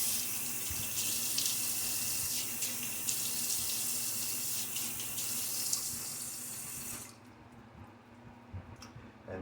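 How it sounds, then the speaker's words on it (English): Tap water runs and splashes steadily at the sink for about seven seconds as a face gets wetted before shaving, then cuts off, leaving a quiet room with faint drips. "Get some water on my face."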